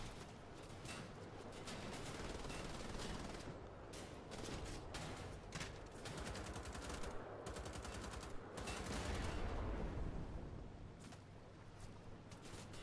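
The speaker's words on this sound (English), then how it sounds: "Someone shooting me!" Dense, sustained gunfire from the video game Wolfenstein: The Old Blood, with rapid overlapping bursts of automatic weapons at a carnival setting, loud and continuous across the whole stretch with brief lulls between volleys.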